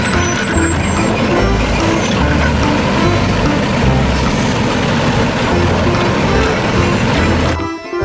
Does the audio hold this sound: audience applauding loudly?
no